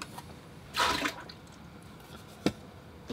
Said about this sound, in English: I'm going to change the water out.